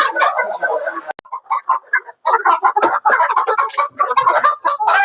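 Chickens on a rooftop poultry farm cluck and squawk in a busy, overlapping chorus, close and fairly loud, with one brief pause before the birds start up again.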